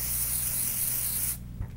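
Aerosol can of hair color spray hissing in a steady, loud, close burst for over a second, then cutting off abruptly, followed by faint quiet handling noise in a salon.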